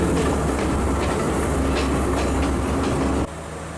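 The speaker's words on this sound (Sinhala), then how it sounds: "කෝච්චිය නතර කරලා කට්ටිය බහිනවා." A train runs with a loud, steady rumble of wheels and carriages that drops abruptly near the end as it slows toward a halt, with no voices heard.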